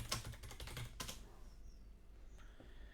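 Quick bursts of clicking keystrokes on a computer keyboard, close and clear, then a short pause with faint clicks trailing off, with no talking.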